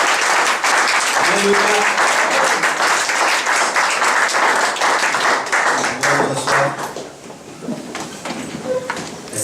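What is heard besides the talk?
congregation applauding and acclaiming the Lord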